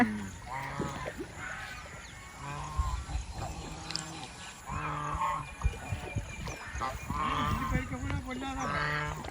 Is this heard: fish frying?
no